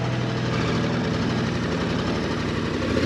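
A KTM 1390 Super Adventure motorcycle engine idles on rough terrain, giving a steady low throbbing rumble close by with a constant broadband wind-like wash layered over it.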